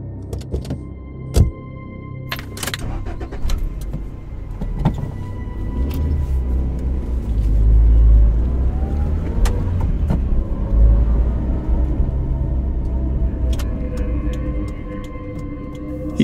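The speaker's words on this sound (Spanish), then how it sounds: "Mi amigo me subió a su carro." A car's engine rumbles steadily from inside the cabin while driving, a low continuous drone with occasional ticks, clicks and a faint rising whine, no speech present.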